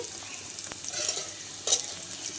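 Potatoes and jackfruit seeds fry in a pan with a steady, close hiss of oil and a couple of brief stirring scrapes, no voices.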